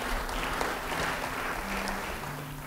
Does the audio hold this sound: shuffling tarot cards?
no